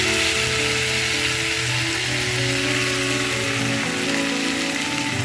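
Ground spice paste hits hot oil after whole seeds have been tempered, for a Bengali tangra fish curry with black cumin, giving a loud, steady sizzle that holds unbroken throughout, with no talking.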